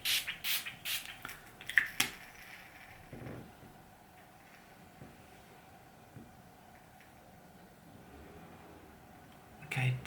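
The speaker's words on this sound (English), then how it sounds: "I'm just going to spray this again" Several short hissing bursts from a hand spray bottle come close together at the start, then quiet room tone, with one more brief spritz near the end; a voice speaks faintly in between.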